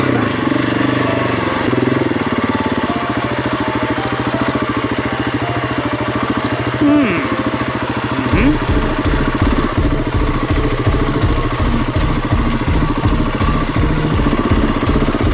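Heavily loaded KTM dirt bike ridden alone on hard singletrack trail in the evening, its engine droning steadily and then breaking into a rapid, pulsing throttle chatter as it works over rough ground.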